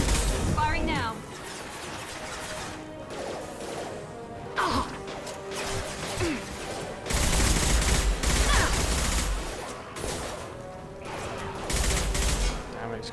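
Gunfire in Mass Effect Legendary Edition comes in bursts of rapid shots and crashing impacts, loud at moments and fading between volleys, while voices talk over parts of it.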